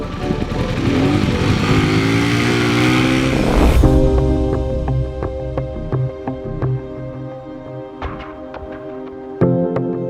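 Royal Enfield Himalayan motorcycle engine, a pre-pilot test bike, revving hard at first, then settling into a steady idle with sharp blips of the throttle; the engine is close and loud, with no talking.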